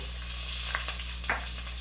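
Tomatoes and tomatillos fry in a pan with a steady sizzle for mole amarillo, broken by a couple of brief pops or scrapes.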